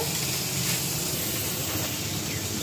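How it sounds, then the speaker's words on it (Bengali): Hilsa fish head frying in a pan in a home kitchen, giving a steady, loud hiss and sizzle that runs unbroken throughout. "ইলিশ মাছের মাথা ভাজা হচ্ছে"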